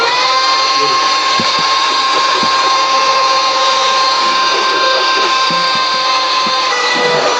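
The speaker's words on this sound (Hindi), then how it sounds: "हो गया पूरा का पूरा वैक्यूम क्लीन कर दिया।" A wireless handheld car vacuum cleaner runs steadily, a loud, close, high-pitched motor whine with a constant tone and small rattling clicks of the nozzle, with brief talking under it.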